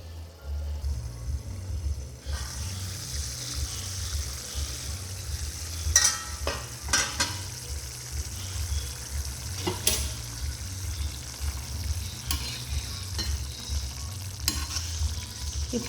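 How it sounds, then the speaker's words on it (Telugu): Curry leaf curry simmers in a covered pan, a soft steady bubbling sizzle under a low background hum, with a few faint clicks and knocks scattered through. "మనం మూత పెట్టుకొని ఈ కూరని ఇంకొక 2 నిమిషాల పాటు ఉడికించుకుందాం"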